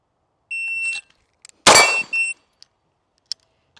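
Electronic shot timer start beep at a shooting range, a sharp tone followed at once by a loud gunshot crack and a second beep-like tone, then a few faint clicks.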